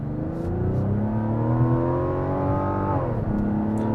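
A Mazda CX-90 SUV pulls away from a stop, its engine note climbing steadily through the gears for a few seconds and then dipping at a shift. The engine is heard close and alone, with no talking.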